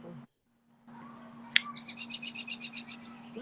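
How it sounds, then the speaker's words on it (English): Birds chirping in quick repeated bursts after a sharp click, with a steady low hum underneath throughout. "And them birds"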